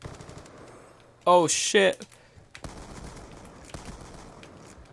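Two rapid automatic gunfire bursts ring out close and loud in the shooter video game Sharpshooter, then drop to a quieter game background. A voice exclaims briefly.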